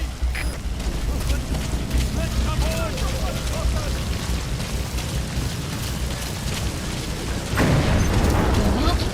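Heavy rumbling blast and roaring debris noise from an explosion in the video game Metal Gear Solid V, loud and sustained with a fresh surge near the end, game voices mixed in.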